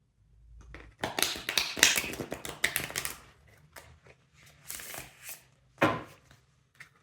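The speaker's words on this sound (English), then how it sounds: "I'm just going to shuffle the deck like this in order to refresh the energy from the previous pile" A tarot card deck is shuffled up close, giving several quick papery riffle bursts and taps separated by short pauses in a quiet room.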